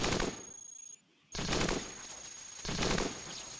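Gunfire from a shootout in the video game Cogmind: dense, loud bursts of rapid synthetic shots that fill the clip, broken by one short pause, with no talk.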